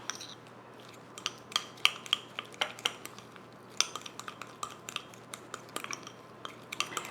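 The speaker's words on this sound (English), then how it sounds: "I'm going to take a fork and I'm going to mix all of that together." A metal fork mixes softened butter with added ingredients in a bowl, making irregular sharp clinks and scrapes against the dish, close and clear, with quiet pauses between strokes.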